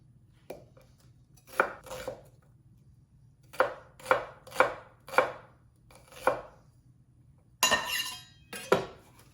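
A knife chops finely through peppers in irregular bursts of sharp, crisp strikes, some grouped in quick runs, with a few clinks near the end, close and clear over a quiet low hum.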